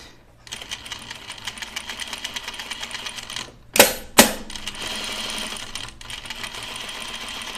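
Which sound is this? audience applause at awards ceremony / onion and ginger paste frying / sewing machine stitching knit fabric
sewing machine stitching knit fabric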